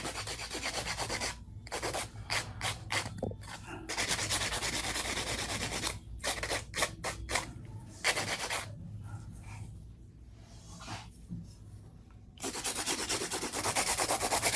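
A hand file rubs across the surface of a nail coated with marbled powder, making bursts of rapid, gritty back-and-forth strokes broken by short pauses. The sound is close and steady and nobody speaks.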